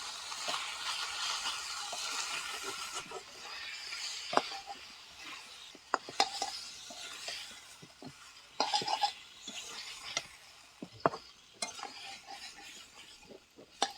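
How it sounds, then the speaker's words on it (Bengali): Chicken feet are stirred with spices and chopped tomato, giving uneven scrapes and clinks of a utensil against the pot over a light sizzle. The sound comes in bursts, and no one speaks. "এবার ভালো করে মিশিয়ে নেব।"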